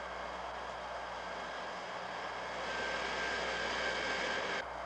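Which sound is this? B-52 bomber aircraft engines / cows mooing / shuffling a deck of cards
B-52 bomber aircraft engines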